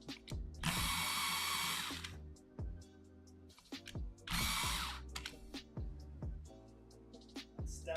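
A sharpener grinds a Stabilo CarbOthello pastel pencil in two close, loud whirring bursts separated by a pause, with small clicks and taps in between.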